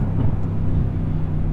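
Low, steady rumble of a 2017 Mercedes C63S V8 engine at slow driving speed, a deep close idle-like drone with no talk over it.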